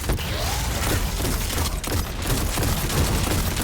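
Dense, continuous gunfire from about six players firing together at one enemy in Destiny 2's Lake of Shadows Grandmaster strike, a loud overlapping barrage of shots and blasts.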